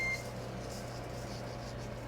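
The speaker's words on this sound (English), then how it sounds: "you heard the Ninja beep. That means it's preheated and ready for us" A Ninja Foodi Grill signals it has finished preheating with a short electronic beep at the very start, followed by a steady low appliance hum and faint kitchen ambience.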